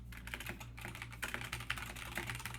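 Fast typing on a computer keyboard makes a dense, continuous clatter of close-up key clicks over a low steady hum.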